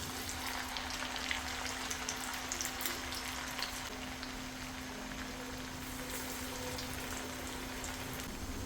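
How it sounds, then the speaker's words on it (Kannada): Avalakki chakli spirals of beaten-rice dough fry in hot oil with a dense, even crackling sizzle, close and steady throughout, with a faint constant hum underneath. "ಈಗ ಒಂದೊಂದು ಚಕ್ಲಿ ತಗೊಂಡು ಈ ಥರ ಎಣ್ಣೆಲಿ ಹಾಕೋಣ"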